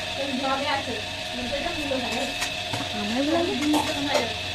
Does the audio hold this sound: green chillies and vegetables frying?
yes